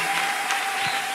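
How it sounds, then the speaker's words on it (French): A church congregation applauds and cheers loudly in praise, a dense, steady wash of clapping filling the whole moment with no pauses. "Vous pouvez acclamer fortement pour la gloire de Jésus"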